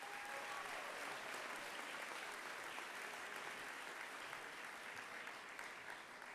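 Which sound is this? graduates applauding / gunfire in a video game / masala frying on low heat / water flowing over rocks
graduates applauding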